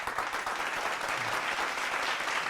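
Steady applause from a live audience at a Hindi kavi sammelan poetry show, welcoming a poet to the stage; dense, continuous clapping at even loudness throughout, with no voices on top.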